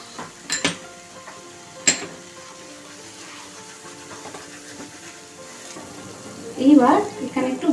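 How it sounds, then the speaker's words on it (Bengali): Paneer and spices frying lightly in a pan for a Badshahi paneer dish, a soft steady sizzle with a few utensil clinks and stirring scrapes, growing louder near the end. "এইবার একটু এটাকে ফ্রাই করতে থাকো হালকা আছে।"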